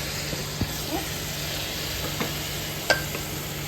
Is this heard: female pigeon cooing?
no